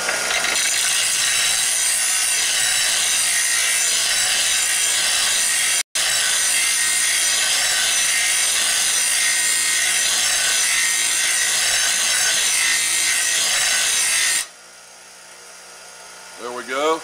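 Steady, loud abrasive grinding of a steel blade edge being sharpened, continuous for about fourteen seconds with one brief break, then it stops and quiet room sound remains.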